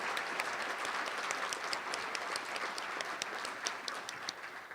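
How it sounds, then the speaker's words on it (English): Audience applause at a county State of the County address, a steady wash of many hands clapping at moderate distance for several seconds, with no talk over it. "I think we ought to applaud for that."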